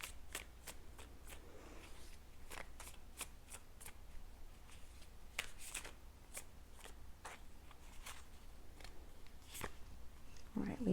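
Tarot cards shuffled by hand, a rapid series of crisp riffling snaps and flicks repeating irregularly across the whole stretch, close and fairly quiet over a soft background.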